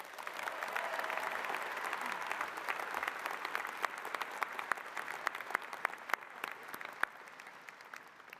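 An audience at a spring engineering commencement ceremony applauds graduates in a steady, dense wash of clapping that thins toward the end, leaving scattered individual claps with no talking.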